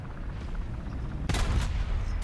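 Tank cannon fire in War Thunder on a Tunisia map, with a Leopard 1 involved: a loud sharp blast midway followed by a second report, set against a continuous low engine rumble.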